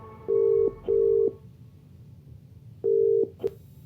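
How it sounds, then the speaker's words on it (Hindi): A phone call is dialed and rings: three long steady electronic ring tones in a row with a short gap before the third, then a brief beep and a click, clear and close with no voices. "फिर उसने अपना फोन उठाया और अपने डैड को कॉल लगाया।"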